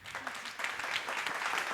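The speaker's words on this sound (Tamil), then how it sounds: "ஒரு கைத்தட்டல் கொடுங்க." An audience at a Margazhi 2024 harikatha panel on Oduvaar singers breaks into brief, fairly soft applause, a dense patter of many hands clapping together in a hall.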